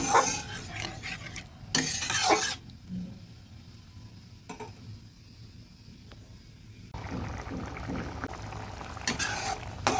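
Fish curry gravy with sesame bubbles in a pan, a steady low simmer broken by a few louder bursts of stirring and pan scraping, close by with no voices.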